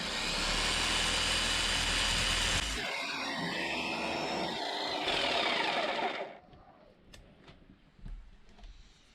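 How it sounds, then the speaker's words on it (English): A power saw with a fine-tooth metal blade cuts through Foamlite board, giving a loud, harsh whirring grind for several seconds with a brief change partway. It stops abruptly, leaving quiet room noise and small knocks. "I'm getting more melting than cutting with this fine-tooth metal blade."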